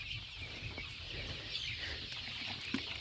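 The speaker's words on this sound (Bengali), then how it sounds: "এই যে দেখুন পোলট্রি মুরগি" Poultry broiler chickens on a farm, faint scattered clucks over a low steady background hum, heard from a distance.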